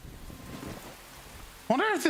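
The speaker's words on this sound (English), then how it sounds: "It is rainy as hell in this area of Rebelwood." Steady rain falling in a rainy forest area of the video game Enshrouded, a soft continuous hiss under faint background sound, before a voice starts talking near the end.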